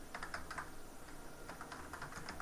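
Rapid typing on a computer keyboard, close and quiet, with short bursts of clicking keystrokes separated by brief pauses.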